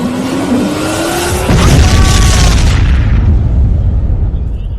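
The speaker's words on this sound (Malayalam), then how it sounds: "ഇടിവെട്ടിയതല്ല, ദാ വെടിപൊട്ടിയതല്ലേ?" A loud bang mistaken for thunder: a gunshot-like boom erupts and rumbles heavily, then sustains as a broad roar that slowly fades, with no talking.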